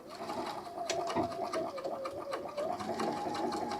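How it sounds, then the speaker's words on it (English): A Bernina sewing machine with dual feed stitching fabric, a steady fast motorized whir with a rhythmic needle clatter, close and continuous. "And now whenever I go to sew, it's going to let me."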